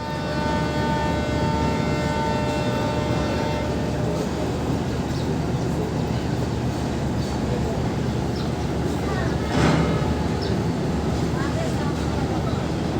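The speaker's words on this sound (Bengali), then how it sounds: "আবারও আমাদের ট্রেন হর্ন দিল।" A long, steady, tonal blast from the Modhumoti Express locomotive horn on the Dhaka to Rajshahi route sounds for about four seconds, then gives way to the broad rumble of the moving train with a brief louder burst near the end.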